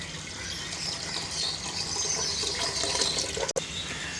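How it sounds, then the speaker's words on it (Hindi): Water pours steadily into a pot of gram flour batter for kadhi, a continuous splashing, gushing flow heard close and fairly loud for several seconds, with a brief clunk near the end and no talk. "और साथ ही इसमें 5 कप पानी डालेंगे।"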